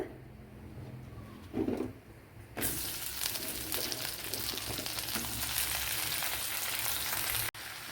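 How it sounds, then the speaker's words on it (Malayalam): Okra dropped into hot oil breaks into a sudden broad sizzle that holds steady and close. A brief rustle comes just before it, and a short clatter sounds near the end. "ഇവിടെ ഓയിൽ ചേർത്ത് കൊടുത്തിട്ടുണ്ട്. അതിലേക്ക് നമ്മുടെ വെണ്ടയ്ക്കയെല്ലാം ആഡ് ചെയ്ത് കൊടുക്കുക."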